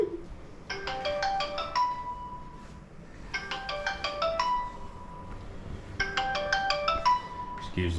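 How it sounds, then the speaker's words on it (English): A phone's melodic ringtone repeats three times in the background of a condo, each burst a quick rising run of electronic notes, moderately loud over low room noise. "Excuse the phone in the background."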